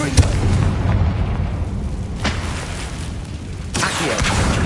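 Confringo fire-spell blasts in Hogwarts Legacy: a sharp boom near the start, then two more bursts a couple of seconds apart, each punchy and close over a low game ambience.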